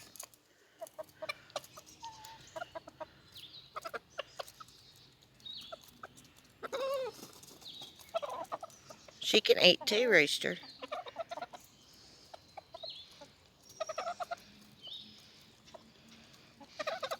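A flock of hens and a rooster cluck and squawk near the coop while being fed before egg gathering, close and intermittent, peaking in a loud burst near the middle; a person speaks briefly.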